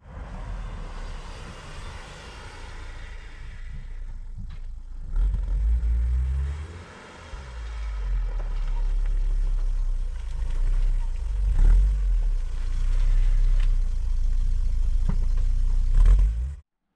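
A Vauxhall Cavalier being driven slowly onto a home driveway, its engine a steady low rumble close by that swells and eases as it manoeuvres, with a brief dip partway through.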